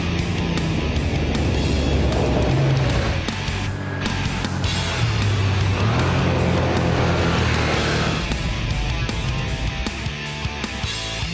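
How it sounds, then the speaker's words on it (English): A Porsche 911 SC, a rear-wheel-drive classic sports car, drives on deserted snowy roads in Sweden, its engine note droning steadily and rising and falling with the throttle, heard alone without talk. "the Porsche is a lot of fun on the deserted roads"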